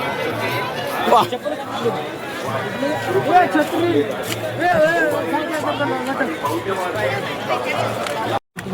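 Crowd chatter at the Bhima Koregaon gathering, a dense, continuous babble of many voices near and far with footsteps and movement, loud throughout and cut off briefly near the end.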